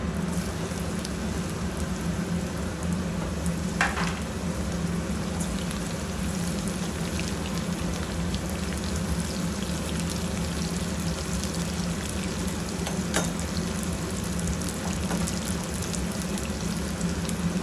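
Bitter gourd pieces fry in a pan with a steady, dense crackling sizzle that runs unbroken throughout, a couple of faint clicks rising briefly above it.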